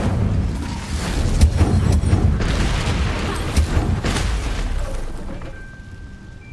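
A fire spell cast in Hogwarts Legacy, played on hard difficulty: a loud, rumbling burst of flame with booming crackle lasting several seconds before fading out.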